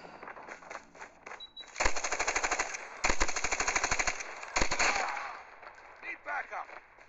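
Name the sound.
machine gun fire in video game Call of Duty Mobile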